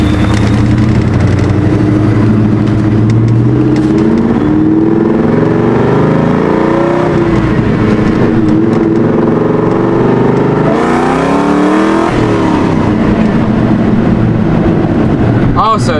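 A supercharged Ford Mustang GT engine revs and pulls through rising gear sweeps, dips, then climbs again with a sharp burst near the end, loud and close with a voice over parts of it.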